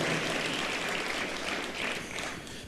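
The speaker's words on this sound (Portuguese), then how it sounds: "Aplauda o Senhor Jesus" A church congregation applauds together, a dense, steady clapping wash at moderate volume that fades slightly toward the end.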